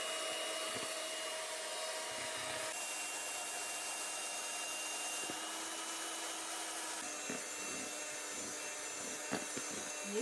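An electric mixer runs loudly and steadily while mixing dough for Easter kulich in a village kitchen, a continuous whirring drone with a few small knocks and shifts in pitch, heard alone without talk.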